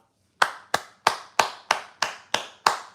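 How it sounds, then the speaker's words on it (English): One person claps by hand eight times at an even, unhurried pace while watching a Phillies–Mariners baseball game, each clap close and sharp with a short decay in an otherwise quiet room. "Don't know why I'm clapping."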